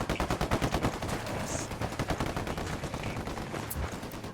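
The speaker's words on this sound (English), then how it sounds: "I'm opening fire on these shitheads." Rapid automatic gunfire in Ghost Recon Wildlands, a dense, loud stream of shots with overlapping bursts and no talk.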